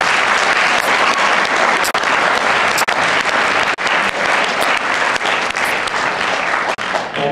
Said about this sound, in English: So let's give him another round of applause.